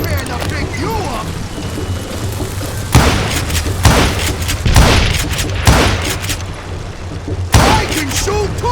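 Gunshots crack out in the Western shooter Call of Juarez: Gunslinger, a heavy burst near 3 seconds followed by several more loud blasts spread across the stretch, with shouting voices and game noise continuing between them.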